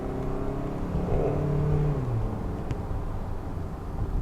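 A 2016 Kia Soul accelerates from inside the cabin, its engine note rising steadily and then easing under a constant road rumble, with no talking.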